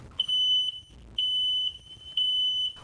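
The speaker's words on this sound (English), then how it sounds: "With the help of Hoover Fire's Rusty Lowe, the alarms were set off." Smoke alarms go off in a house at night: three loud, shrill, long beeps repeat in a regular on-off pattern with short silent gaps between them.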